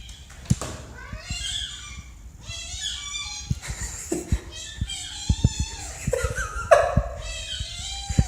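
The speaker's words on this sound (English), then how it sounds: "This cat sounds exactly like a squeaky toy." A cat gives a string of high, squeaky meows that sound like a squeeze toy, short squealing calls repeated in quick bursts with soft taps and thumps between them, fairly close and quiet.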